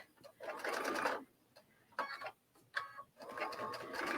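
A sewing machine stitches over a bulky quilt seam in close, moderately quiet bursts of rapid mechanical whirring, stopping and starting several times with short pauses between runs.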